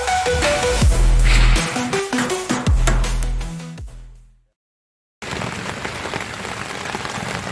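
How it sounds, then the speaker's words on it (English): Rain falls at a bamboo house build site while concrete work goes on. A steady hiss of rain on surfaces sits alongside clattering knocks, drops out into silence for about a second, then returns as an even patter. "it's been raining all day"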